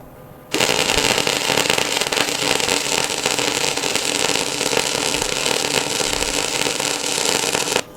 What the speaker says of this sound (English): That's quite a nice sounding weld